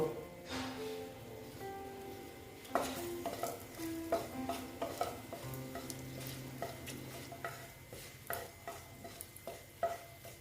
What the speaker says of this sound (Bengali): আবার তেল দিয়ে এবার আমি শুকনো লঙ্কা দুটো দিয়ে দেব